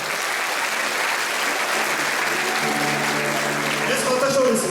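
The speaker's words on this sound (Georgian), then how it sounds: "ტაში თქვენ ყველას ერთად." An audience at a grand folk choreographic ensemble concert applauds loudly and continuously, dense clapping filling the whole stretch with a hint of music rising toward the end.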